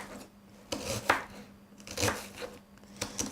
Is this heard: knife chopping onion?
yes